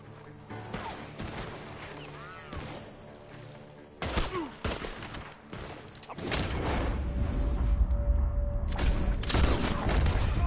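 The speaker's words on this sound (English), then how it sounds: "Gunshots are coming from that barn." Gunfire in the video game Red Dead Redemption 2: a fast barrage of loud, close shots and booming cracks, with sharp hits and rumbling echoes building into dense, sustained firing.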